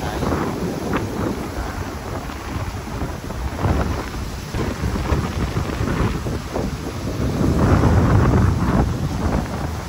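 Loud, continuous roar of wind buffeting the microphone over rough surging sea on the coast of Barroc, Tigbauan during Typhoon Goring, with heavy gusts swelling toward the end.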